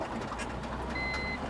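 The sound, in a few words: vehicle rear sensor beeping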